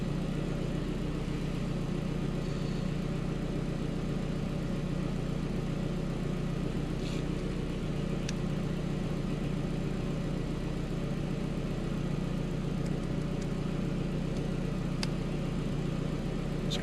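An Audi S3 1.8T 20v engine with a big Garrett turbo idles cold while warming up, a steady low rumble throughout, with no talking, just a constant hum and a few faint clicks.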